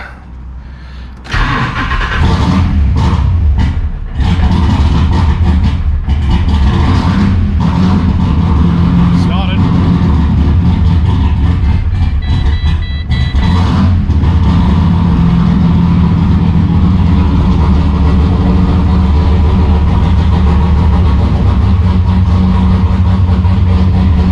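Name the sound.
car engine started after doubts it would start, idling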